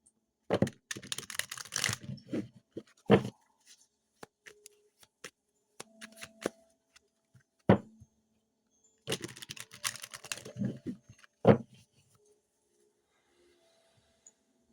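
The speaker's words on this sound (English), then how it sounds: "Let's shuffle." Cards are riffled and bridged in short bursts of crisp fluttering, separated by quiet gaps and a few soft taps, close up.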